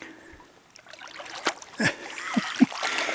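A trout being released back into a stream, with light sloshing and a few distinct close splashes and drips building toward the end, alongside soft running water.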